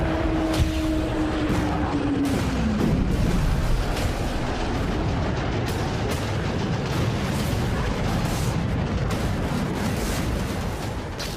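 Distant bombing explosions in a war over Iran rumble as a dense, continuous low roar, with a fading tonal whine early on and scattered dull booms throughout, steady and moderately loud with no voices.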